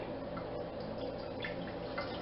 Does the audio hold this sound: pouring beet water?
yes